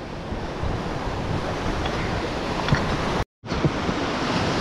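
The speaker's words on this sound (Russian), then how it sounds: "Волна сильная" Heavy Caribbean sea waves off Antigua roar continuously in a dense wash of surf, loud and close, with a brief dropout near the end.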